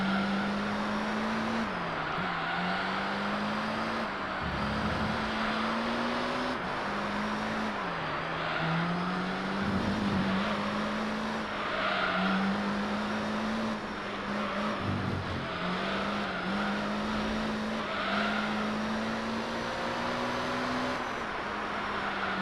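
A 900-plus-horsepower race car in Gran Turismo 3 holds a steady droning engine note that rises and dips with gear changes, running continuously and close throughout.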